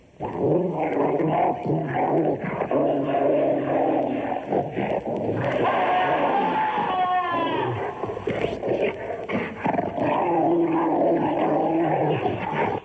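A dog growls and snarls in a low, continuous rumble, close and loud, with a few rising yips partway through.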